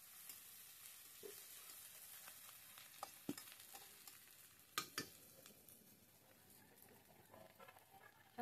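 Chicken curry being stirred in a frying pan, with a steady soft sizzle of frying underneath, scraping strokes and a few sharp clinks of a utensil against the pan, close by with no talk.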